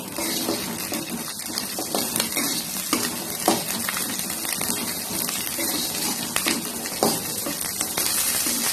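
Garlic and small shallots sautéing in a pan for garlic chutney, a steady close sizzle broken by repeated scraping stirs of a spoon against the pan, with no talking.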